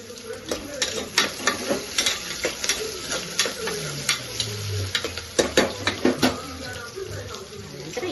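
Whole spices, onion and chilli fry in a pan for ghee rice, with a steady sizzle under repeated sharp clicks and scrapes of a spoon stirring, close up.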